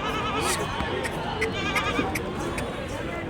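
At the Angallu goat market, several goats bleat in quick overlapping calls, loud and close, over a continuous background of people talking and general market noise.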